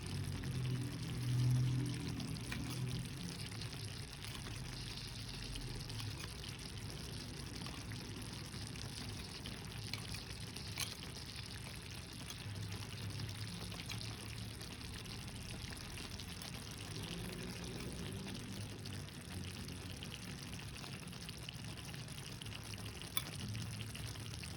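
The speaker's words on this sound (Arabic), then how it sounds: "المرق شي شويه هنايا فوق البطاطا" A little broth being poured over potatoes in a chicken and vegetable tagine, a soft continuous pour with faint sizzling, moderately quiet and steady throughout, with no talk.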